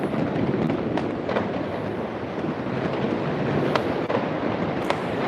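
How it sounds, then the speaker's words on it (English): Fireworks and firecrackers going off at midnight on Chinese New Year's Eve in China, a steady roar of dense crackling with scattered sharper bangs, some near and some distant, continuing throughout with no talk. "people would come to these open areas to start setting off fireworks."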